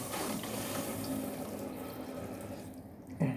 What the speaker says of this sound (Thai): น้ำเติมเข้ามาใหม่